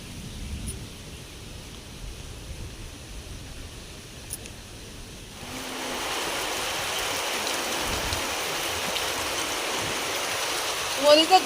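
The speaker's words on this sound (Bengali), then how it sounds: "এই যে দেখো কেমন হাওয়া ছেড়েছে" Wind blowing ahead of rain, a low rustling hush at first that swells after a few seconds into a broad, steady rushing noise, close and continuous, with no talk.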